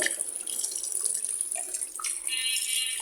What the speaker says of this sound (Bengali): এভাবে পাঙ্গাস মাছ ধোয়া হয়